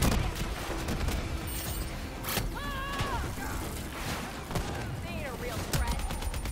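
Gunfire in the video game Call of Duty Black Ops III comes in bursts among mechanical clanks and creaks, with some rapid automatic fire and a few sharp reports over busy game noise.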